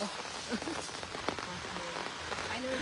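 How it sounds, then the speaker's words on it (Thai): Steady rain falls outdoors in an even, dense patter of drops on surfaces, close by and continuous throughout, with faint voices in the background. "อันนี้ฝนตก"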